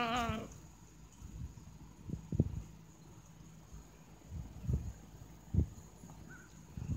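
Ewes, most of them pregnant, bleat on a farm: one short quavering bleat opens the scene, then a quiet stretch broken by faint thumps and shuffling.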